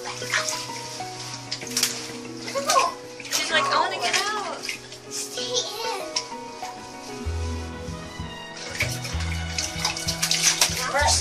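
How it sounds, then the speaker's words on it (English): Water runs steadily into a bathtub during a skinny young puppy's first bath, a continuous close rush of flow with voices talking over it throughout. "This is her first bath."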